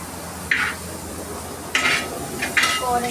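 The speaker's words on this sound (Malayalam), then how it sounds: "നമുക്ക് ഈ സവാള ഒന്ന് വേഗം വഴന്ന് കിട്ടാൻ" Onions with salt sauté in oil in a pan, a low steady frying hiss under three short bright scraping strokes of a spoon against the pan.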